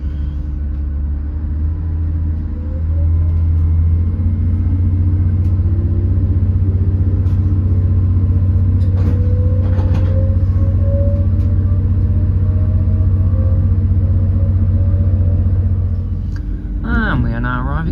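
A train pulls out of Pewsey station, its deep steady rumble joined by a rising motor whine as it gathers speed, loud and close from inside, ending with a brief clatter.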